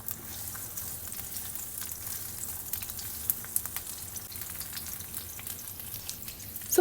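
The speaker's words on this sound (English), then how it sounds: "we're going to add these onions in. Give it a quick stir." Onions frying in a preheated, oil-coated pan, a steady close sizzle with scattered crackles and soft scraping as they are stirred, no voices.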